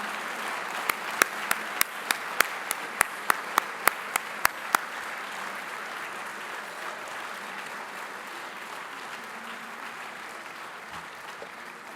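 Guests at a criminal justice awards gala dinner in Philadelphia applaud an honoree, a sustained crowd clapping over which a run of sharp, evenly spaced clicks sounds for several seconds before the applause continues alone.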